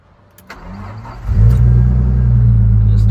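A Nissan Skyline R33/R34 is started with the ignition key: a short starter crank, then the engine catches into a loud, steady low rumble at idle, heard up close with no talk.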